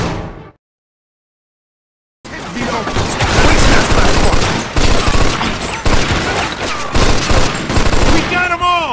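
After a brief silence, heavy sustained automatic gunfire erupts in a shootout in the crime game Mafia 2, loud, continuous volleys with overlapping shots and clatter running to the end.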